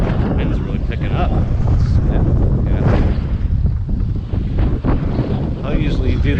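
Strong wind buffeting a microphone outdoors along a street mail route, a loud continuous rumbling roar with gusty surges and dips throughout.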